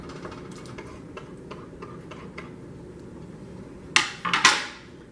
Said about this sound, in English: I'm going to go ahead and add my mushrooms